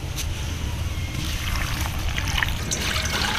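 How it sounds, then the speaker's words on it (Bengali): Broth is poured into a hilsa fish curry with green bananas cooking in a pot, making a steady, continuous trickle and slosh of liquid that stays close and moderately loud throughout. "এখন পরিমাণ মতো ঝোল দিয়ে দেবো"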